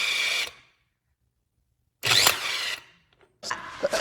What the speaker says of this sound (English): Electric impact gun.